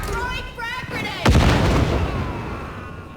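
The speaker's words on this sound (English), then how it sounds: "Throwing frag grenade!" A frag grenade bursts in the tactical shooter Caliber, a single sharp, heavy blast midway through followed by a decaying rumble, after brief shouted voice lines.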